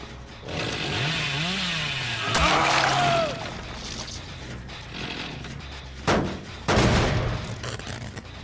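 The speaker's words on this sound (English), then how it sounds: "I've only gotten one chainsaw hit and I need two more." A revving chainsaw in a multiplayer horror video game, played as Billy, buzzing loudly in the first few seconds, followed by heavy impacts and bangs with no talk.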